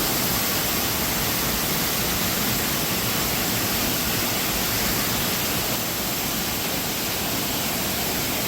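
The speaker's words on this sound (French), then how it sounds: "Cascade des écrevisses." Waterfall at the Cascade des écrevisses in the jungle near Malendure, a steady, dense roar of falling water, loud and close, constant throughout with no voices.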